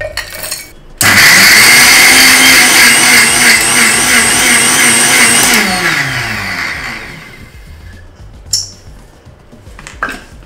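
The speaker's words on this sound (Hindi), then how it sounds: "मैं इसको सिंपली ग्राइंडर में डाल के ग्राइंड करने वाला हूँ।" Electric kitchen grinder pulverizing lumpy creatine powder, a loud, close whirring motor that starts abruptly, roars steadily for several seconds, then winds down with falling pitch, followed by a few small clicks and clatters.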